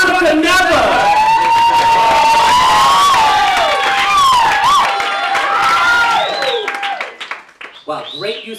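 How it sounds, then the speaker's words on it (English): A live holiday variety show audience applauds and cheers loudly and steadily, with whoops and whistles riding over the crowd noise before it fades out near the end. "why don't we give a big round of applause for the ghost of Hannukah Never!"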